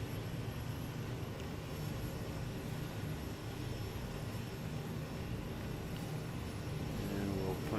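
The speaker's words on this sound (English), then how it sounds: "we are departing Richmond on runway" A Kodiak K100 aircraft in a flight simulator game holds a steady broadband engine drone on the runway at Richmond, rising slightly near the end as the departure begins, with a voice talking faintly under it.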